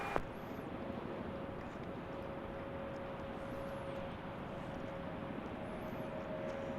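An Airbus A220 airliner arriving on runway 35 gives a steady, moderately loud broadband roar with a faint sustained whine, continuous throughout with no talk.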